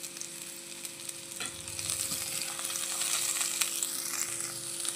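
Boiled, cut beans frying in oil in a pan on a low flame for a catering-style mixed vegetable fry, a steady hissing sizzle that grows slightly louder, with occasional stirring clicks.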